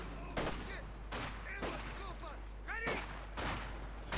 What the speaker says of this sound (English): Field guns opening up there, trying to shoot through the houses, not quite succeeding.